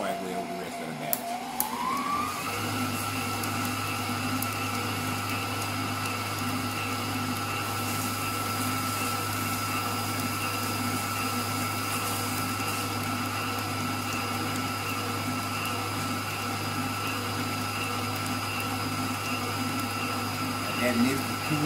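Stand mixer running on third speed, beating an egg into bourbon pecan pie batter: a motor whirs up over the first two seconds, then holds a loud, steady hum with a constant low drone throughout.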